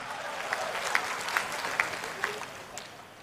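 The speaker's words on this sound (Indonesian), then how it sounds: "Tepuk tangan buat Indonesia." Audience applause at an Indonesian stand-up comedy show, a soft, fairly distant patter of many hands with a few louder claps standing out, tapering off toward the end.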